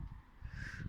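A crow caws once in a drawn-out, harsh call at moderate distance outdoors, over a low rumbling background.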